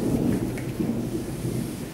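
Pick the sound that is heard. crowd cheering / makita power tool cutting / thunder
thunder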